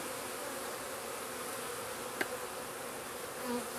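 Bees crawl over a brood frame in a newly installed colony, giving a steady, close, soft hum that holds evenly throughout, with one brief sharp tick partway through and no voices.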